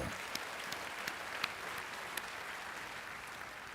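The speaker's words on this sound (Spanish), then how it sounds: "Démosle un fuerte aplauso." Congregation applause during a church sermon on the resurrection, a steady even wash of many hands clapping at moderate level, with a few sharper individual claps standing out.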